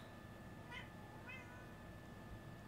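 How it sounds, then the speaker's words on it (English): A house cat meows twice in quick succession, short and faint against a steady background hiss, with no talking. "My kitty decided to start meowing"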